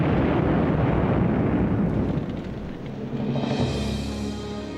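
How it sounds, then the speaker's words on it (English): Huge explosion of the aircraft carrier Lexington, set off by ignited leaking aviation fuel: a loud, dense roaring blast that fills the opening seconds, then eases into a lower, sustained rumble that lingers. "That evening, the Lexington, still afloat, suddenly erupted in a huge explosion."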